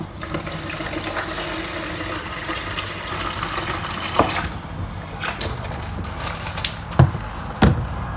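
Tap water runs steadily into a small office kitchen sink with occasional splashes and soft knocks as a mango is rinsed under the stream.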